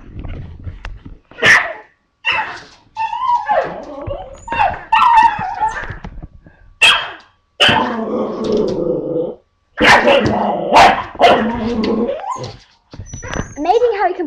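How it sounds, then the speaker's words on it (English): A pet dog barks repeatedly with a toy held in its mouth, giving muffled, growly barks and whimpers in bursts close to the listener, with gaps of quiet between them. "Amazing how he can bark with his toy in his mouth."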